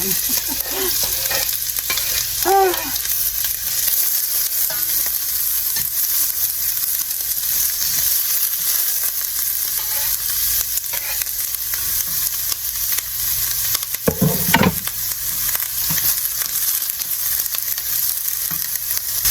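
Steady sizzling as onions fry in bacon fat in a hot frying pan, with occasional stirring scrapes and a brief louder clatter partway through; no talking.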